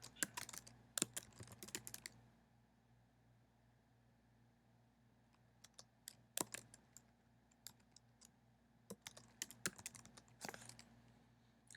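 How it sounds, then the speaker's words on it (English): Commands are typed on a computer keyboard in short bursts of rapid, crisp key clicks separated by pauses, close and quiet against a faint steady hum, with no talking. "I'll type in the commands,"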